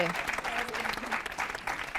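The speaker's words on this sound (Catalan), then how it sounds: "Un aplaudiment, ja podeu aplaudir, ja." Studio audience applause on a Catalan TV quiz show, a steady continuous clapping throughout with a host's voice talking over it.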